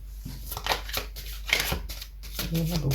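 Oracle cards are shuffled by hand at close range in quiet rapid riffles and slides, with soft speech running underneath.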